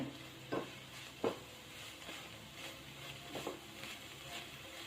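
Red cabbage stirred in a pan after cooking covered, a faint soft sizzle with a few scraping strokes of a spoon or spatula against the pan, quiet and close.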